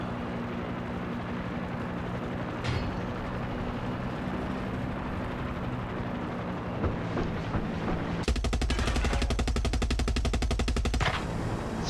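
Automatic gunfire in Far Cry 6: a dense game soundscape with scattered shots, then a loud, rapid machine-gun burst in the last few seconds, with no talking over it.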